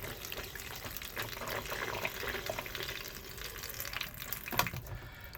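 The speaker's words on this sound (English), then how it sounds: "So to use the flush, simply press this button." A Burstner Aviano motorhome's cassette toilet flushing in a 2007 model, with a steady close rush of water filling the bowl for several seconds and a brief louder splash near the end.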